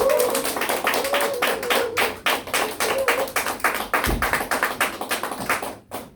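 Audience applause welcoming a speaker at a business presentation, a smaller group clapping in loose, distinct claps that come quick and rhythmic, fairly close, with one low thump partway and a fade at the end.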